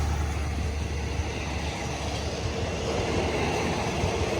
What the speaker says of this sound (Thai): นี้ทำขบวนโดย QSY 5204 นะครับ ควอมปรับอากาศชั้น 2 นะครับ